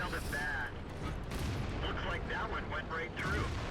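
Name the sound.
T69 tank gun firing at IS-6, World of Tanks video game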